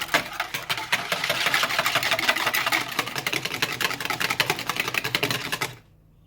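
Sweetener being whisked into a foam for a keto strawberry tart, a fast, even clatter of whisk strokes that runs loud and steady for several seconds, then stops abruptly.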